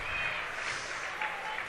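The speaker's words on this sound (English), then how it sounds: "there's a big cheer from the crowd" A crowd at a bouldering semifinal of the IFSC Climbing World Cup in Meiringen cheering and applauding, a loud, continuous, dense roar that lasts through the whole short stretch.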